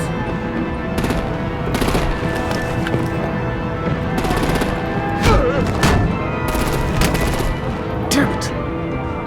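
Game gunfire and artillery from Batman: The Enemy Within: dense, continuous volleys of shots with heavier booming thumps near the middle and end, loud and close, mixed with music and effects.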